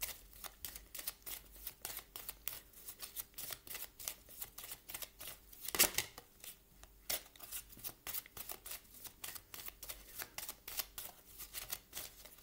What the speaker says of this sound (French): Je vais vous tirer une petite carte ici du Mystic Woods.